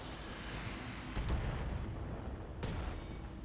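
A munitions blast inside the BattleTech video game, the LRM ammunition store of a mech going up: a sustained low rumbling burst with a sharper crack near the middle and another thump toward the end, loud and alone.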